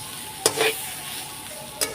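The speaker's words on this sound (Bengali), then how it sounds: "এইবার নাড়াচাড়া করে নেব" A spatula stirs potato fry in a pan, giving a steady close sizzle with two sharp scrape-clinks against the metal, one early and one near the end.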